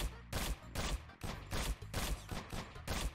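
Rapid gunshots from the Aim Lab aim-training video game, a quick series of sharp, loud shots fired in bursts roughly every half second, close and clear with no talking.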